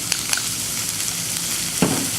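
Corn kernels sauté in a honey and herb butter mixture with fresh parsley and thyme, giving a steady soft sizzle with a few light scraping clicks of a utensil and one brief louder scrape near the end.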